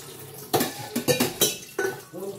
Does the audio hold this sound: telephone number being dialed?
no